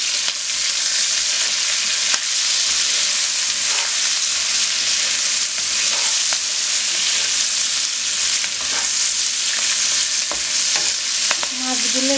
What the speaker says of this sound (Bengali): মাছগুলো একটু হালকা ভেজে নেব।